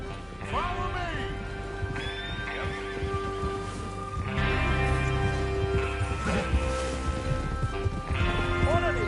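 Horses in the Red Dead Redemption 2 video game whinny loudly at the start, then hooves clip-clop and shuffle as they set off, with further snorts and neighs over a steady outdoor background.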